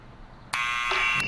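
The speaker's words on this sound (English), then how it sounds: "it's a buzzer." A door buzzer in the Back to the Future video game sounds a sudden, loud, harsh electronic drone that holds steady for under a second after a quiet moment.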